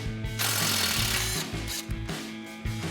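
An 8mm socket on a power tool spins off the ABS line bracket bolt from the front knuckle of an F-150, a loud continuous whirring burst that eases off and then revs again in shorter pulses, close up.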